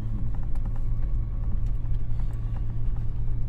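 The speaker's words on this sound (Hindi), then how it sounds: "हाँ, गाड़ी स्लिप कर रही है सर।" A 4x4 jeep slipping on snow on the K2 base camp trek route: a steady, close, low engine rumble with mechanical grinding that holds throughout, no voices.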